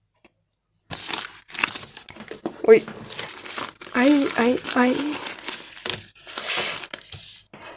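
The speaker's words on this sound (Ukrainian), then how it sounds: "А я хочу відкрити сьогодні ось такий пакетик" A paper surprise packet crinkles and tears as it is opened by hand, in close, uneven rustling bursts while someone speaks over the handling.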